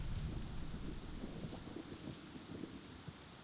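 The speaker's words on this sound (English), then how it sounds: "Why is it raining?" Steady rain falling in the video game Soul Reaver 2: a soft, continuous hiss with faint patters throughout, quiet and even with no voices.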